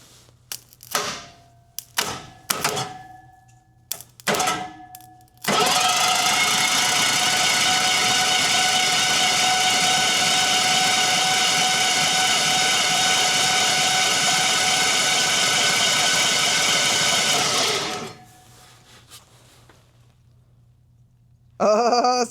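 1986 Ford F250 truck engine start attempt: several short, sharp clicks and bursts, then a loud, steady whirring crank that lasts about twelve seconds, winds down into quiet, and gives way to a few final clicks.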